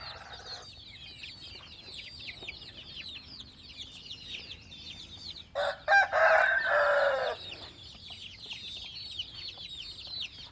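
Black-tailed Pradu Hang Dam chickens cluck and chirp continuously in a coop, with a louder burst of squawking midway, moderately close.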